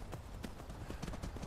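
Horse hooves clip-clop steadily in a video game as the horse heads for a river crossing, the hoofbeats close and continuous over a busy game soundscape.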